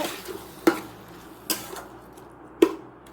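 Spiced shrimp stirred in a pan, giving three sharp, close clanks of a utensil against the metal spaced about a second apart over a low background hiss.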